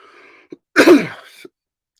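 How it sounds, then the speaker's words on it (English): A single close throat clearing with a rough cough, one short harsh burst flanked by faint small clicks, in an otherwise quiet room. "I'm coughing now because I start thinking about it"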